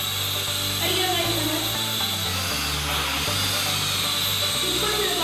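A small toy drone flies and flips indoors with a steady, close, high-pitched whine from its buzzing propellers, whose pitch shifts up and down as it climbs, drops and tumbles through the flip, sounding throughout the clip.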